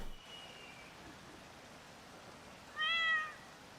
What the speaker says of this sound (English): Heard a little kitty meow